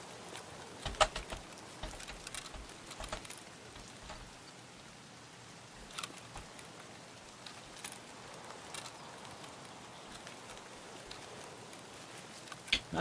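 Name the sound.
rain in video game Escape from Tarkov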